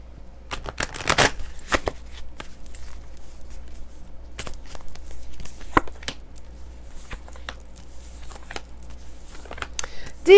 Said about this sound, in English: I had told Dee that I was going to pull a card for her